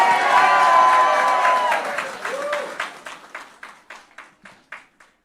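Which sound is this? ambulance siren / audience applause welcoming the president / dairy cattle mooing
audience applause welcoming the president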